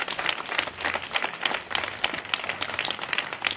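A church congregation breaks into sustained applause, dense rhythmic clapping filling the room at moderate volume with no voice over it.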